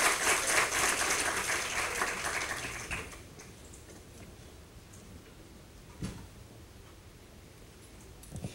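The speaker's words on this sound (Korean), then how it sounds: "박수로 환영해 주시면 감사하겠습니다." Enthusiastic audience applause at a developer presentation, loud for about three seconds, then fading into quiet room noise with a few stray claps.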